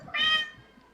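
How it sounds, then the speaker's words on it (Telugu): A cat lets out a single short, clear meow, fairly close and moderately loud, then fades into a quiet room. "పాపం అది మన ఇక్కడికి వచ్చిన పిల్లి అండి"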